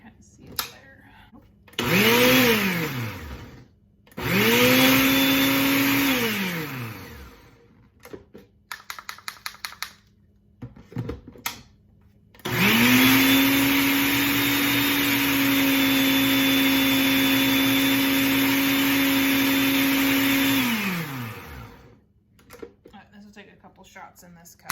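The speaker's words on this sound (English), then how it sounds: "I'll put on the lid, put it in my blender" A blender grinds freeze-dried eggs into powder in loud, steady bursts: two short runs, a pause filled with small clatters, then one long sustained whir that winds down at the end.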